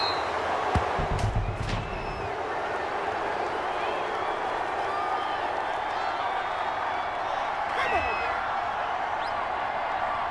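Stadium crowd in a College Football video game, a Texas versus Miami matchup, giving a broad, continuous roar of reaction beneath a commentator's voice, with a few sharper thuds early on.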